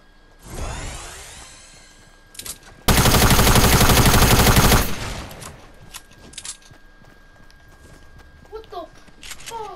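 Video game gunfire bursts out: a loud, sustained rattle of rapid shots for about two seconds midway, with a scrape and a few scattered impacts before it and sporadic thuds and chirps after.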